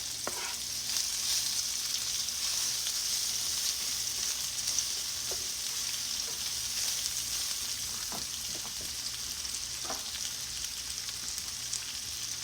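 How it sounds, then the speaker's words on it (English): Onions frying alongside Salisbury steaks in a pan make a constant, even sizzle throughout, with a few faint scrapes and taps from stirring and no voices. "so we can put the onion Cook them up some."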